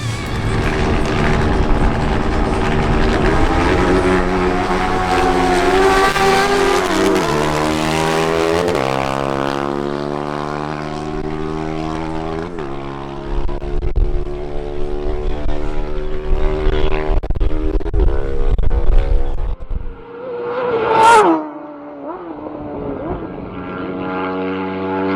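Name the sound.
Honda CBR 1000RR motorcycle drag racing quarter mile run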